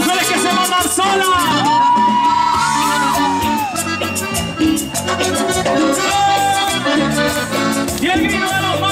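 Women in a concert crowd shout and whoop at a live banda show, their cries riding loud over pounding brass and drum music throughout.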